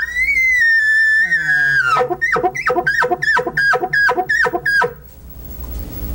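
A hunter's voice imitating a bull elk bugle: a long high whistled tone sliding down, then a run of about seven rhythmic grunting chuckles, loud and close, to calm an elk herd.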